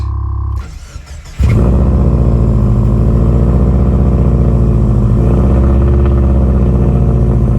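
A built Subaru STI Forester engine cranks briefly, then catches and settles into a loud, steady, high cold-start idle that runs on close up, with no talking over it.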